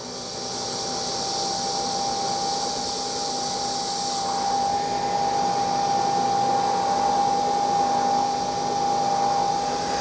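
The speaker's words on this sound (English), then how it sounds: "You can hear it spinning the pod." A Nespresso VertuoPlus coffee machine spins its pod while brewing, giving a steady, close whirring hum with a thin constant whine that swells slightly partway through, with no talking.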